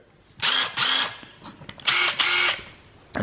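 An 18-volt ToolPro brushless cordless drill whirs in four short bursts, two pairs each spinning up and winding down, loud and close with quiet pauses between.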